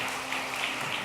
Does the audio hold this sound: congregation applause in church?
yes